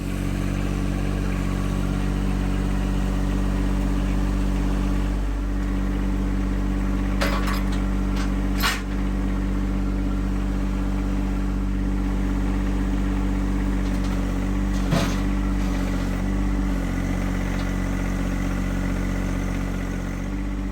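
A John Deere 1025R compact tractor with a front loader and little rear ballast drones steadily at close range while its rear tire spins freely, with a few faint clanks over the continuous engine note.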